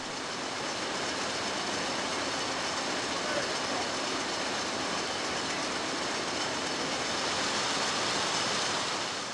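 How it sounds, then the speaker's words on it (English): Jute drawing frame machine running, a dense, steady mechanical roar with an even clatter and no breaks throughout, loud and close. "This mangle wheel actually gives the forward and reverse movement of the coiler plates through a pair of bevel wheels"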